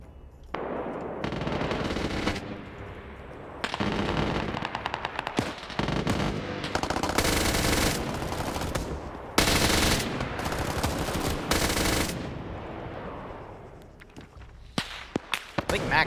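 MG42 machine gun fire in a video game, long close bursts of rapid automatic fire separated by short pauses, with scattered single shots near the end.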